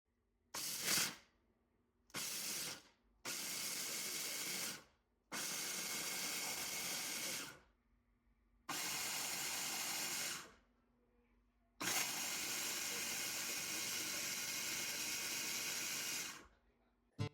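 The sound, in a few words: food processor grinding peanut chutney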